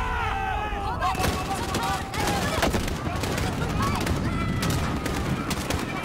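Gunfire in Call of Duty: Modern Warfare, with repeated shots and bursts crackling through a busy battle mix, heard alongside talking voices and whistling sounds throughout.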